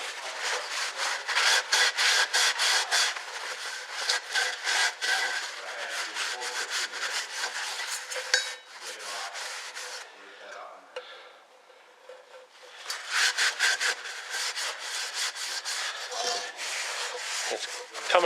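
A 1966 Chevrolet C10's oil bath air cleaner being scrubbed and wiped out, with steady close rubbing and scraping strokes that pause briefly midway before resuming.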